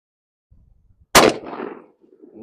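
A shotgun fires a Winchester lead turkey shell at a target 25 yards away: one sharp, loud blast with a short rumbling tail after some faint handling noise.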